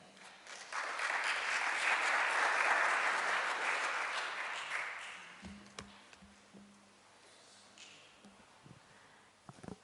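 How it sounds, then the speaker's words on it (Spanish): Audience at a talk applauding, a steady wash of clapping that swells, holds for several seconds, then fades out into scattered taps and room noise. "un aplauso para Angie Manzanero."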